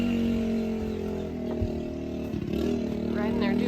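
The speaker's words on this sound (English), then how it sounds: "riding their dune buggy" A dune buggy engine runs steadily with kids riding it outdoors near a chicken coop. It is a continuous mid-distance drone with some clatter, and a person talks over it throughout.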